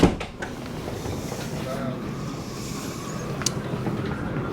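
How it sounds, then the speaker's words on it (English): The heads door on a Hanse 418 sailboat shuts with a brief knock at the very start, then a steady low cabin rumble with faint rattles carries on. "Coming out of the heads, just close the door."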